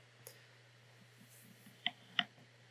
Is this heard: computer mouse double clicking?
yes